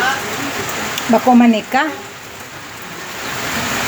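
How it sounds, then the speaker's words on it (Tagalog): Steady rain falls in a constant hiss close by, with a short stretch of talk over it partway through. "Ilang araw nang umuulan,"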